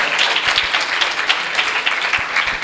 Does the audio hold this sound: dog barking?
no